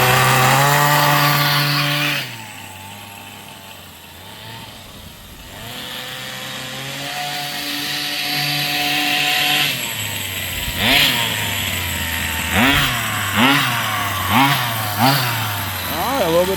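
A Rovan 45cc engine warming up after a repair, running loud and close with a steady buzzing drone that drops to a lower idle, then several sharp rev-ups blipping one after another.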